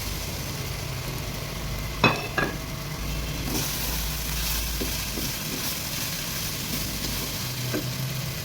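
Kabab batter poured into flour cooking in a pan, giving a steady close sizzle with a couple of sharp stirring knocks near the start and light scraping afterward.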